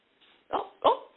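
A dog at home gives two short, close barks in quick succession, alone, after a faint whine.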